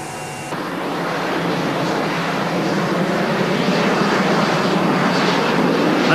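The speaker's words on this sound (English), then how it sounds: "Another demonstration of this aircraft's great versatility, as Ray Coates comes in for an RVL" An aircraft flies at the 1987 Fairford airshow, a steady, broad engine roar that swells slightly louder over several seconds and stays close, with no talk.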